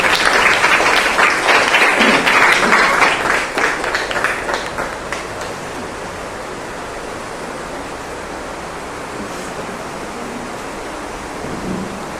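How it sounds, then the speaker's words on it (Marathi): An audience at a retirement ceremony in a Dadar secondary school claps loudly for about five seconds, then the applause fades away into quiet room noise. "सर्वांनी जोरात टाळ्या वाजवायच्या आहेत"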